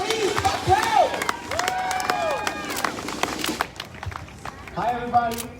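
Crowd at an outdoor street march for immigrant legalization cheering, whooping and clapping in a loud, sustained burst, with shouts rising over the noise and a second swell near the end.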